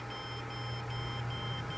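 Computer POST beep code signalling no memory detected on an ESXi host being upgraded: a faint, steady electronic tone over a constant hum of fans, quiet and close, with no voices.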